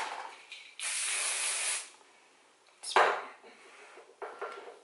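Hairspray hisses from an aerosol can in a long burst, followed by a couple of shorter spritzes, close and fairly loud with quiet pauses between.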